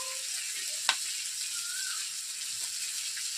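Potatoes and spices sizzle gently in a pan while cooking for a rui fish curry, a soft continuous fry with one sharp clink of a utensil against the pan early on.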